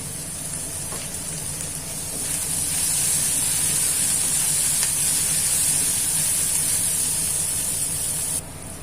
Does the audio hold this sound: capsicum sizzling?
yes